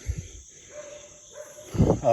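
A neighbor's dog barks a few times close by near the end, after a stretch of quiet outdoor background with faint talk.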